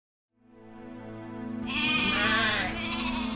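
Sheep bleat in a cartoon countryside setting, a long wavering cry starting after a short silence and swelling into overlapping loud bleats close by, with no talk.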